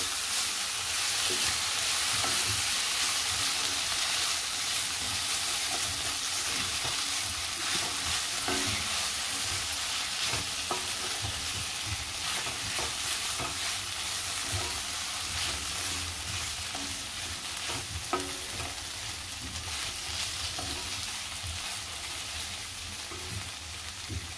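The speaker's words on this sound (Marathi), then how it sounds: "आपण झाकण खोलूया। चांगलं मिक्स करायचं आहे।" Mushroom masala is stirred in an uncovered pan, giving a loud, close, continuous sizzle with repeated scraping strokes of a spoon, and no talking.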